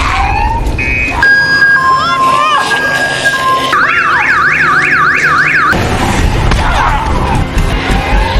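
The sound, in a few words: car alarm going off in a TV show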